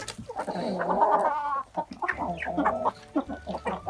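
Hens cluck and squawk up close in short bursts, a lively run of throaty calls with brief pauses, no talking.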